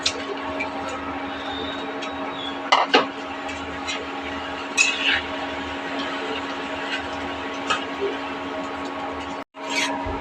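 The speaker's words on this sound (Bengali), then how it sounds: "ঝোলটা আমার ভালো করে ফুটে গেছে, এবার মাছগুলি দিয়ে দেবো" Tangra fish go into boiling gravy in a pan on a home kitchen stove, giving a steady close bubbling hiss with a few sharp clinks of utensils, and no voices.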